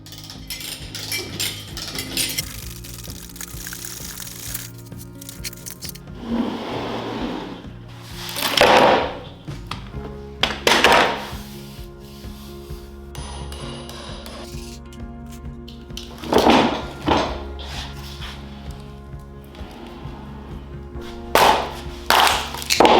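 A cured block of epoxy and wood being pulled from its mold and unwrapped, with loud knocks, clatters and crinkling plastic wrap coming in irregular bursts up close over about twenty seconds.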